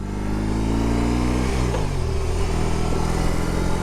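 A BMW R18 Transcontinental motorcycle under hard acceleration through a corner, its big engine droning loud and close with a rising then falling pitch as it works at full power.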